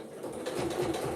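A sewing machine with a presser foot stitches a quilt, a steady, fairly quiet mechanical hum that runs without a break for just over a second.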